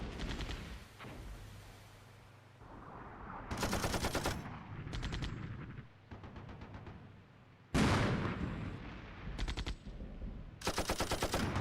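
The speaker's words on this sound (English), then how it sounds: "Whilst we're getting hit with artillery, our scouts taken out." Incoming artillery fire in the wargame Armored Brigade 2, a run of sharp blasts and rattling bursts in irregular clusters, some loud and close, others fainter, with quieter rumbling between the hits.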